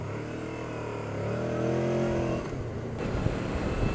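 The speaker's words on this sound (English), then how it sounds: "just to let you know that there is an engine there, and they're not all silent sewing machines" A Honda VFR800 Crossrunner motorcycle engine revs up close by, its mid-pitched note rising and holding before dropping off, then settling back into a rougher idle burble with a brief click.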